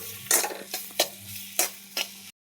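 A spoon scrapes and stirs spice paste of ground Kashmiri chilli and salt frying in oil, giving several distinct strokes over a steady sizzle, close and fairly loud before cutting off abruptly; no one talks.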